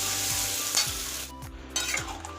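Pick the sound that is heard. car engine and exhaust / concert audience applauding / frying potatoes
frying potatoes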